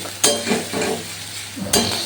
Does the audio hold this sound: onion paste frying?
yes